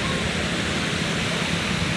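Flowing water along the shore at Clifton, Karachi, a steady, broadband rushing wash like surf with no distinct breaks, loud and continuous.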